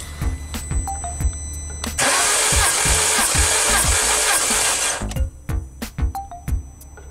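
A 2011 Peugeot Partner's 1.6 TU5 petrol engine cranking over for a compression test, a loud, even churning whir of the starter that runs about three seconds, framed by quieter clicks and knocks before and after.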